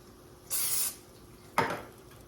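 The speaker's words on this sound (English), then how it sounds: "Spray your tortilla again." Two short hissing bursts of cooking-oil spray hit a tortilla on a hot cooking surface, the first lasting about half a second and the second quicker and sharper, with quiet kitchen background between them.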